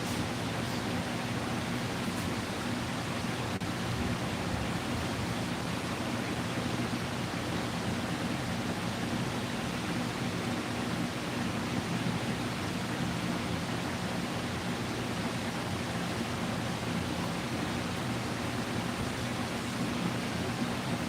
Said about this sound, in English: I got the swamp cooler rolling because it's a smooth 110 degrees outside.